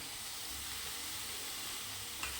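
Chopped onion greens sizzle as they go into a hot pan for a mung dal vegetable dish, a brief continuous hiss of frying with a faint stirring scrape at the end.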